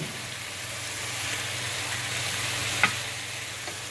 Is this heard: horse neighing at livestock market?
no